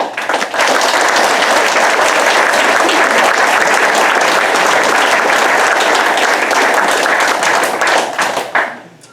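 A big round of applause from a crowd at an annual alumni banquet, loud and close, dense sustained clapping from many hands that holds steady for several seconds before tapering off at the end.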